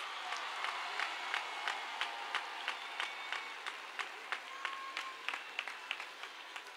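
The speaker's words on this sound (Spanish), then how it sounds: "Un fuerte aplauso otra vez para vosotros." Crowd applause at the Badajoz carnival opening speech, a broad wash of clapping with some distinct sharp claps standing out in a steady rhythm, moderately loud in a large space.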